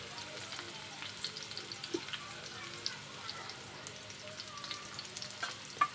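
Bitter gourds roasting in a little oil in a pan, a faint steady sizzle with small scattered pops and crackles, fairly quiet throughout.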